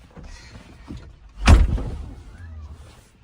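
A Ford Bronco door swung shut with one loud, close thud midway, preceded by faint shuffling and movement inside the vehicle and followed by a brief low rumble.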